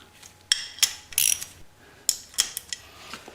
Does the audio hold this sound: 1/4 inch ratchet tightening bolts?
yes